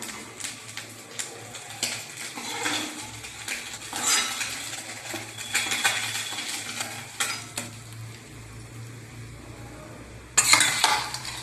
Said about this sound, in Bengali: তাই মাছগুলো ভেজে রাখবো